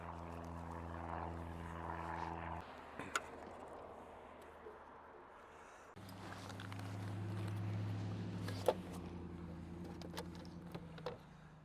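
Propeller aircraft from a nearby airport drone steadily at moderate distance beside a campground park, fading out midway and then returning louder, with birds calling faintly in the background.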